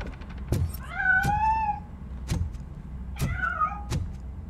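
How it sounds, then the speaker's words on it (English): A cat meows in the RoboCop video game, two drawn-out rising and falling calls spaced a few seconds apart, heard over sharp periodic clicks and a low background rumble. "That cat must be hiding inside."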